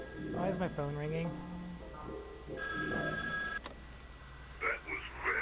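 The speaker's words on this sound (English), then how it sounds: "Why is my phone ringing?" A telephone rings once in the Shivers 2 video game, a steady electronic trill lasting about a second. It comes between stretches of someone talking over a low background hum.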